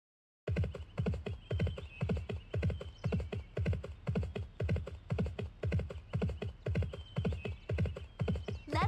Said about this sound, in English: so I couldn't comment on the poshness of its trot.